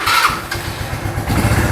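The small engine of an ATP 200 Hammer Pro ATV cranks and catches, settling into a steady, throbbing idle close by.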